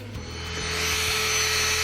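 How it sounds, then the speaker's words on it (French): An electric nail sander runs against gel nail polish to strip off the color, a close, thin motor whine that rises in pitch and steadies as it grinds, with no talking. "en déplaçant toujours ma ponceuse, j'enlève d'abord, moi personnellement, toute ma couleur"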